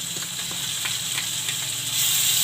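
Chopped onion frying in hot oil in a pan while cooking rajma, giving a loud, continuous bright sizzle with faint stirring taps, growing slightly louder toward the end.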